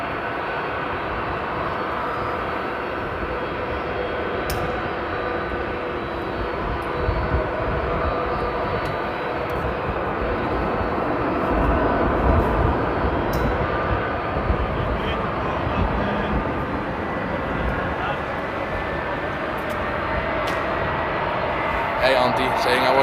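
A Delta jet airliner taxis toward runway 24 at Amsterdam airport, a steady, broad engine roar continuing throughout at moderate distance, with a voice talking over it.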